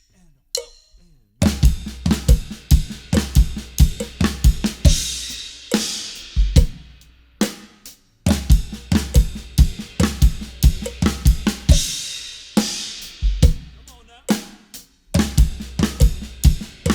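A drum kit plays a grouped 3-5-5-3 fill pattern at 70 BPM, with repeated rhythmic phrases of punchy kick and snare hits mixed with cymbals, loud and close, alone with short gaps between repetitions.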